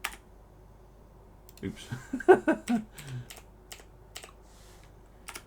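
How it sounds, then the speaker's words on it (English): Keyboard keys tapped in a few quick bursts while entering a ship's displacement figure in the naval design game Ultimate Admiral Dreadnoughts, close and crisp, with a brief spoken exclamation and some background voice. "let's just check that I can type in displacement"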